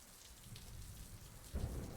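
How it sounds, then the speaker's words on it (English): Steady rain falls in the video game Necrobarista, a soft continuous hiss with a low rumble that swells louder toward the end, with no voices. "you know, it's just raining. I'm just getting soaked."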